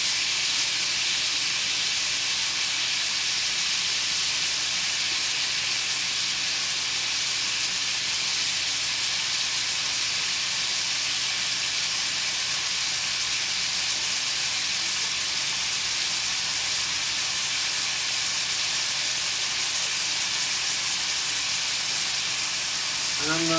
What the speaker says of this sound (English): I'm going to turn that burner on back there.